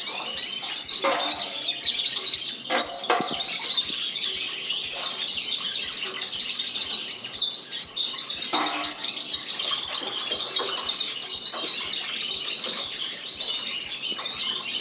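Canaries chirp and tweet in a busy, high-pitched chorus throughout a hand-washing session in a canary room, with occasional splashes and handling noises among the birdsong.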